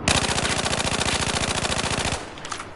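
Rapid full-auto bursts from a carbine rifle on a Battlefield 4 shooting range, a dense, evenly spaced string of loud close shots lasting about two seconds before cutting off, with no talking.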